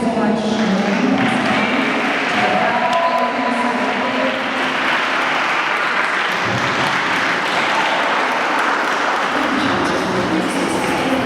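Sustained applause from an audience, a dense steady clapping that fills the room without pause.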